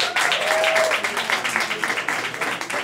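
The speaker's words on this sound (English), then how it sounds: "Give a round of applause for Blackstreet and all the wonderful work that they're doing." An audience at a community leadership award event claps in a moderate burst of applause that thins into scattered individual claps as it fades.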